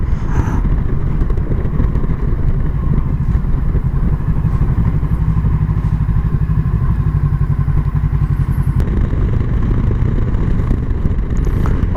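Motorcycle engine running steadily, a loud close rumble with a fast even throb throughout, no speech over it.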